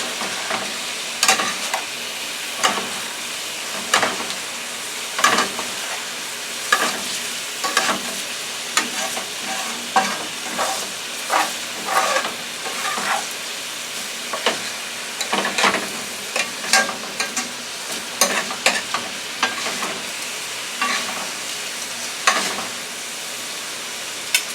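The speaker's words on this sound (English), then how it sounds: "now I'm going to mix this all up. Make sure you blend in that garlic." Pasta, chicken, spinach and garlic stirred together in a hot pan, a steady sizzle with repeated scraping stir strokes close by, continuous and fairly loud with no talking.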